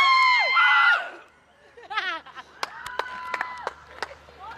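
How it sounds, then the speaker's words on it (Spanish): A woman screams loudly for about a second as she drops backwards off a bungee platform at Cofio, Madrid, then falls away to excited shouts and chatter from people nearby. "¡Ese grito!"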